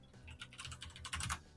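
Rapid typing on a computer keyboard, close and fairly quiet, with quick bursts of key clatter that grow denser and louder toward the end.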